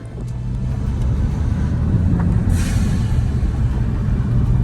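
Supercharged new-edge Ford Mustang GT engine with a blow-off valve, a loud, steady close rumble that holds throughout, with a brief hissing burst near the middle.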